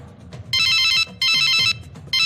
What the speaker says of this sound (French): Qui m'appelle donc à cette heure de rendez-vous?